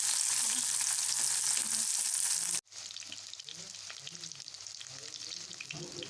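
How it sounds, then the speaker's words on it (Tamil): Sliced big onions, dried red chillies and a green chilli sautéing in hot oil in a pan for a roadside-style spicy chutney, a steady close sizzle that cuts out briefly midway and then resumes with crackling and stirring. "நல்லா வதக்கணும்."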